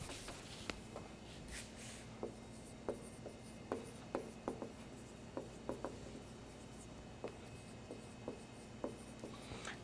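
Marker or chalk strokes on a board during a lesson on balancing nuclear reactions, a quiet series of short scratchy taps and squeaks in an irregular rhythm, heard alone against a faint room hum.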